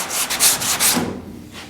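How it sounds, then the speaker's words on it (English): A few quick strokes hand-sanding body filler on a car body scrape back and forth, close and fairly loud, then fade out. "Now I'm nowhere near done sanding"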